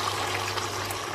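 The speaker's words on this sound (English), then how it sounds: "I'm just going to add in some water and a stock cube to make my chicken stock." Water is poured into a pan with a stock cube for an oven-baked chicken risotto, making a soft, steady splashing trickle that lasts the whole short moment, with a faint low hum behind it.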